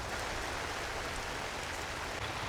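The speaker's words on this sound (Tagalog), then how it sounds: "At umuulan." Steady rain falls at a campsite, a dense, even hiss that holds constant throughout with no voices or breaks.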